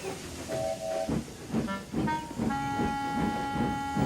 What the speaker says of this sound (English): Sir Handel puffed away to fetch his coaches.